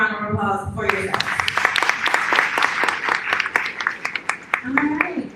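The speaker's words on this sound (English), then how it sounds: "And one more round of applause for yourself." Applause at a fifth grade graduation, steady clapping from the audience rising right after a voice over a speaker system, then continuing evenly as talk returns near the end.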